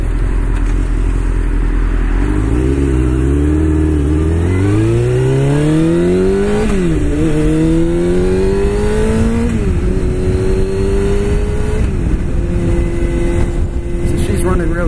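A 1998 Honda CBR 600 motorcycle engine runs close up, idling low and then revving up in several rising and falling sweeps before settling back to a steady, higher idle, loud throughout.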